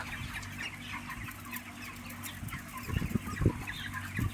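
Chickens cluck over a steady low hum, with louder, denser bursts of clucking toward the end, close by on a small poultry setup.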